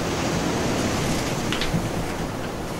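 Sea waves wash continuously as a sound effect in a children's story about a boat crossing rough water, a loud steady roar of surf with no voices over it.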